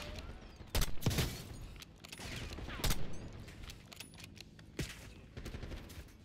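Gunfire in Call of Duty Black Ops 6, with several bursts of rapid shots and louder single cracks spread across the moment, near and punchy over a steady game-ambience bed.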